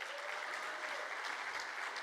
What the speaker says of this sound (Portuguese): E eu quero uma salva de palmas para elas.